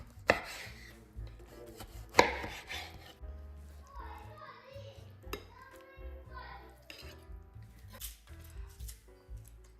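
A knife knocks against a cutting board in irregular chops through eggplant, with scraping and rubbing sounds in between, close and fairly quiet.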